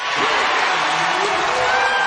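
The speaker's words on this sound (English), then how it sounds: "And listen to this crowd" A home crowd at an Iowa State versus Baylor college basketball game roars in a loud, sustained wash of cheering that fills the arena without a break, close and dense throughout.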